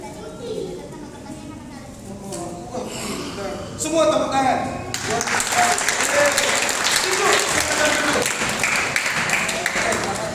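A children's audience at an Easter church celebration breaks into loud, sustained applause that swells midway and continues to the end, with an adult voice talking over the start.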